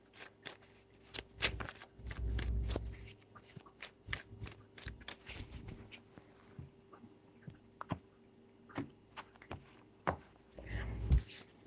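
A deck of tarot cards is handled and shuffled with a series of soft close taps, clicks and brief riffles, faint and scattered, with a few quiet thuds.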